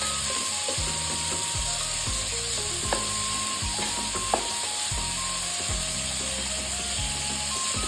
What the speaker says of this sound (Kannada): ಈರುಳ್ಳಿ ಟ್ರಾನ್ಸ್ಪರೆಂಟ್ ಆಗೋವರೆಗೂ ಫ್ರೈ ಮಾಡ್ಕೋಬೇಕು.